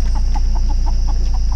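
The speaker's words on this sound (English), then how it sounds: "Oh, they're gonna catch a chicken." A chicken clucks in a quick, even series of short clucks over a loud, steady mechanical hum, close and unaccompanied by talk.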